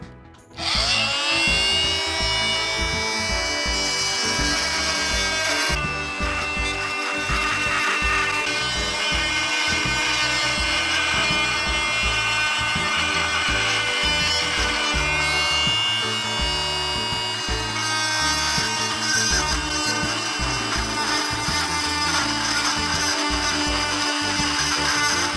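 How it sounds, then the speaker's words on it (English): A Chicago Electric multi-tool cutting into stucco siding, a steady loud high-pitched whine that runs nearly continuously, with a brief shift in tone partway through. "to cut this, we're gonna go ahead and go with a Chicago Electric multi-tool"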